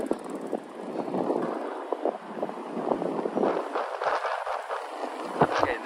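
Gusty wind blows outdoors in Midtown Manhattan near Lincoln Center in winter, a continuous broadband rush with louder buffeting gusts striking the microphone throughout.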